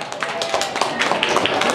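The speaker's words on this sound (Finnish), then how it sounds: "Kaikuvat aplodit" Applause from a live concert audience in Järvenpää after a performance, a dense steady wash of many hands clapping that continues throughout, with voices mixed in.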